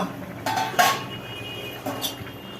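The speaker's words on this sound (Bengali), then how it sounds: "ঢাকনা খোলা হলো" A metal cooking pot lid is lifted off, giving two sharp clanks close by, the first louder with a brief ring, then a softer clink about a second later over a quiet background.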